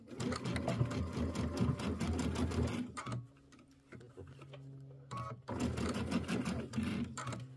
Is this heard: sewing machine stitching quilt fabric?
yes